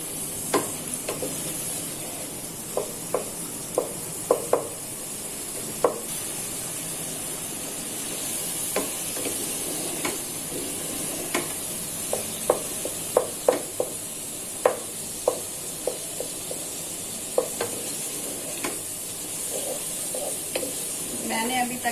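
Mutton qeema fried in its own released fat in a pan, steady sizzle under repeated scraping clacks of a spoon stirring, close and moderately loud throughout.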